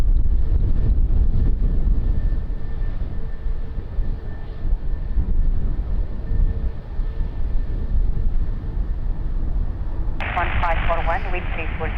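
Airliner engines roar steadily on the runway at windy Lisbon Airport, a loud continuous rumble mixed with wind buffeting, and a brief radio voice cuts in near the end.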